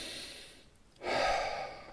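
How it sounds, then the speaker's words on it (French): A single slow, deep breath, a quiet inhale followed by a louder, fuller rushing exhale, taken in a conference hall during a talk on pain and suffering. No one speaks over it. "on accompagne simplement par une respiration, c'est-à-dire j'inspire"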